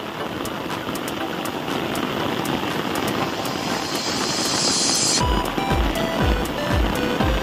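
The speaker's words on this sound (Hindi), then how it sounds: "सही, बारिश हो रही है" Heavy rain pours down outdoors in a loud, unbroken roar, with a few dull thuds near the end.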